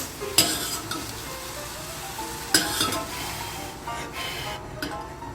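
A utensil scrapes and clinks against a pot while hot liquid for homemade cottage cheese bubbles and sizzles underneath, with a couple of sharper knocks.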